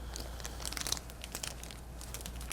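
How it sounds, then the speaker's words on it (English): A plastic rebuild pack for an RC car's ball differential is torn open by hand, giving close, faint crinkles and sharp tearing snaps in quick bursts over a low hum. "grab your rebuild pack, open it up"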